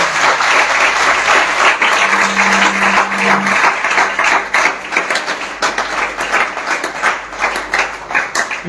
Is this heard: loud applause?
yes